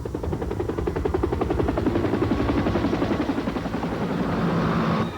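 A helicopter effect from a 1995 NFL broadcast promo: steady rapid rotor chopping thuds, loud and close, running throughout with no voices.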